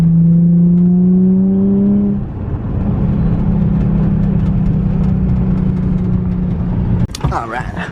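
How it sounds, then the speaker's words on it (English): Nissan 350Z engine revving hard during a second-gear slide, a loud rising engine note that drops into a steady roar with tire noise, ending in a sudden burst of mixed sounds. "We'll see if we can give it a little slide right here. Second gear slide."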